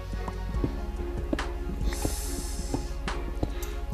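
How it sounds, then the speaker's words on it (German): Spider spawner in Minecraft: scattered hissing, clicking spider noises and short scuffling steps recurring close by over a continuous low background rumble, with no speech. "das klingt so, als wäre hier ein Spinnen-Spawner"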